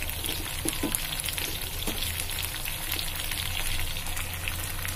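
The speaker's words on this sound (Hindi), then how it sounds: "तो ये मैंने टमाटर डाल दिया है और मैं हरी मिर्च और मसाले भी डाल दिए।" Tomatoes, green chillies and spices frying in a pan give a steady, close, loud sizzle with constant crackling hiss and faint bubbling, with no talk.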